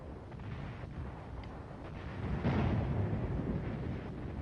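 Enemy artillery gun firing in Korea as caught by hilltop sound-locating microphones: distant, muffled booms rolling over a rumbling, noisy background, with a heavier swell midway.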